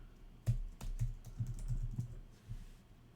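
Typing on a computer keyboard while entering a list into a note-taking app, a handful of soft, close key clicks at an uneven pace with no talking.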